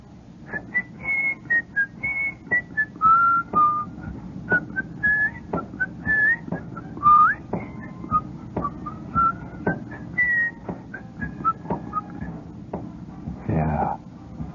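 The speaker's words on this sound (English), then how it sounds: "And they're out there in that hot sunlight whistling" A person whistles a lively tune close by, short bright phrases in a bouncy rhythm with brief pauses, under a low murmur of background noise and a soft knock near the end.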